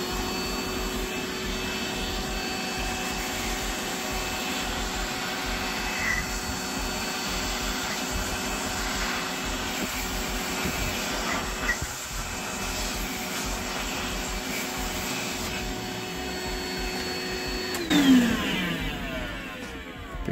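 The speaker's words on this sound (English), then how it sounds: "Not only is it a vac, if you change the port from one side to the other, it's a blower as well." A wet and dry vacuum switched to blower mode gives a loud, steady motor whine and rushing airflow that runs without a break, then winds down near the end.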